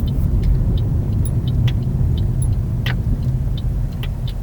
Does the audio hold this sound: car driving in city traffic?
yes